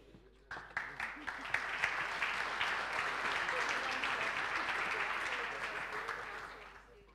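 A crowd at an evening awards ceremony applauds, starting with scattered claps that grow into a full, steady round of clapping, then fade out near the end. The clapping is moderately distant.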